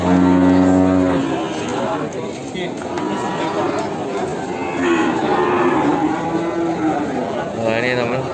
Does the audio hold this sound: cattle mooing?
yes